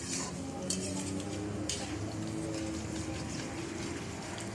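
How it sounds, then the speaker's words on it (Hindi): Chopped onions fry in oil in a home kitchen pan, giving a steady close sizzle with scraping stirs and light clinks of a utensil against the pan throughout. "उसको इतना हम लोगों ने फ्राई करना है कि अनियन जो है वो कलर चेंज करके गोल्डन ब्राउन में आ जाए"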